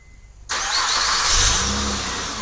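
A 2005-2010 Honda Odyssey engine starts by remote start: a sudden crank catches into a loud, steady idle with a slight rev, close up and without talk.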